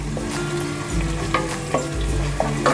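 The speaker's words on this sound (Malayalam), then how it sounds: "ഈ ഇഞ്ചി ഒന്ന് ജസ്റ്റ് ഒന്നിങ്ങനെ വഴറ്റിയെടുക്കുക" Ginger and garlic sauté in hot oil for Arabic biryani, giving a steady, close sizzle broken by a few sharp scrapes of stirring, with no voices.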